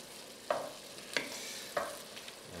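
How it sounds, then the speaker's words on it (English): Red wine bubbling in a pot of beef stew while a utensil scrapes the bottom in three distinct strokes over a soft, steady simmer. "as the wine starts to bubble, I'm going to scrape the bottom of the pot"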